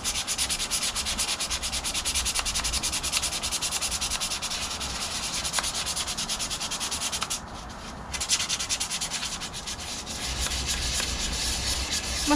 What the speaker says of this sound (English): I need to sand this all down so it's all smooth